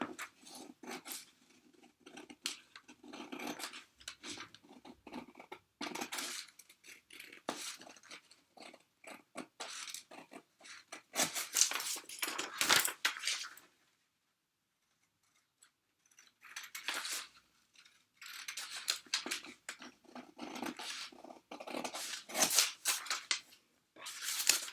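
Scissors cut through a calico pattern piece for a panelled skirt, making close, crisp snipping and rustling bursts in quick runs, broken by a short silent pause midway, with no talking.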